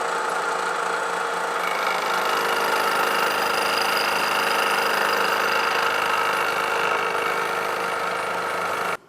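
Steady, loud machining whine as material is ground off an LS V8 piston for balancing, a continuous close tool drone with no pauses.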